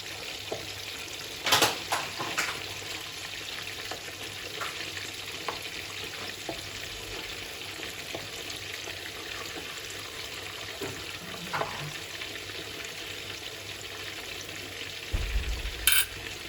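Carrot, onion and celery fry in a pan as a base for ragu, a soft continuous sizzle running throughout with a few louder stirring clatters near the start and end.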